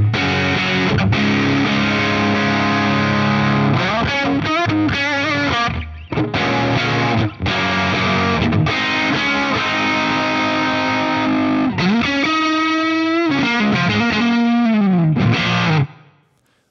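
Distorted electric guitar played through a Line 6 POD GO JTM 50 patch with the drive at 10, loud, thick sustained chords and bends ringing continuously with brief gaps, ending in a cut-off.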